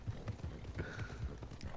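A horse gallops in Red Dead Redemption 2, its hooves drumming in a quick, even clip-clop rhythm that stays faint and close throughout.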